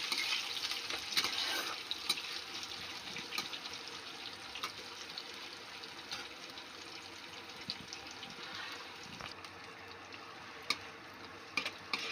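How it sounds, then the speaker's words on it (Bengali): Chopped onions frying in a pan with green chillies until reddish, a steady soft sizzle with occasional faint ticks and scrapes of a spatula, continuous and fairly quiet throughout, no talking. "পেঁয়াজটাকে আমি লাল লাল করে ভেজে নেব"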